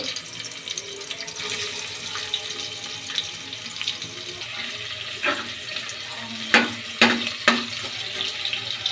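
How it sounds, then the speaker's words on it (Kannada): Chopped onions fry in hot oil in a pot for village-style mutton sambar, giving a steady close hiss and sizzle, with a few sharp clinks of a spoon near the end. "ಈರುಳ್ಳಿ ಚೆನ್ನಾಗಿ ಫ್ರೈ ಆಗಬೇಕು"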